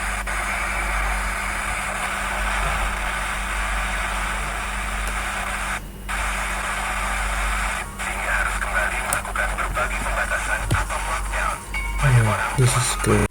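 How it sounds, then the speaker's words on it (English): An FM radio broadcast comes through an RTL-SDR receiver running GNU Radio as a steady wash of hiss and static with a low hum beneath. Faint broadcast voices sit inside the noise, and a few brief dropouts and crackles appear as the signal shifts. "So that is our FM radio receiver."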